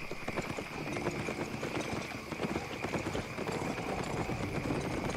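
Donkey hooves clip-clop steadily as the animal is ridden in the video game Albion, a fast continuous patter that runs throughout with someone talking over it.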